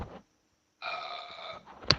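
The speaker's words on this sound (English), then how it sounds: "Let me move this so I don't burp in y'all's ear." A person's burp, one drawn-out, tonal belch close to the microphone after a brief pause, ending with a small click.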